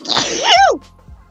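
A single loud person's sneeze, a sharp explosive burst trailing off into a falling voiced tail, close up, with faint background sound afterward.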